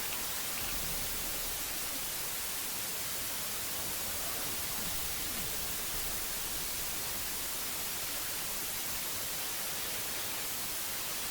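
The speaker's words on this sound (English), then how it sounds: "It's quite a bit of static." Dense, hissing static fills the whole stretch at a steady level in the horror video game Silent Hill Ascension, constant and unbroken with no voices.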